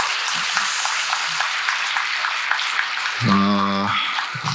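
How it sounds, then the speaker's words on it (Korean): A large crowd at a Buddhist dharma assembly at Bongeunsa temple claps in thanks, a dense, steady wash of applause that stops abruptly near the end as a voice starts speaking. "우리 주지스님과 봉은사 대중스님들께 감사의 박수를 보내드립니다"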